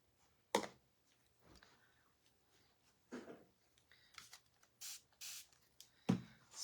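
A spray bottle spritzes water during a painting session on a bunny basket craft, with several short, quiet bursts spaced irregularly against a near-silent background.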